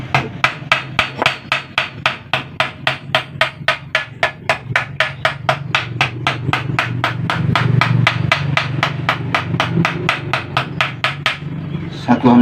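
Loud, rapid hammer blows, about forty evenly spaced strikes in a steady rhythm, while a leaking rear shock absorber from a car is repaired in a workshop. A lower mechanical drone rises underneath toward the end.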